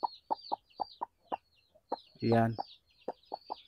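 A mother hen on a backyard poultry nest with newly hatched chicks gives a string of short, rhythmic clucks, close by, plus one louder drawn-out squawk midway; someone speaks a brief word.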